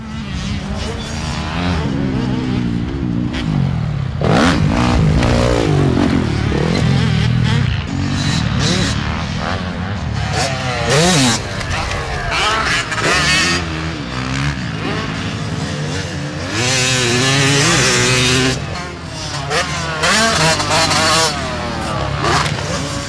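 Motocross pits at Valley MX, with dirt bike engines revving and idling nearby and passing at varied distances, a loud continuous blend of buzzing two-stroke and four-stroke motors, with people talking over it.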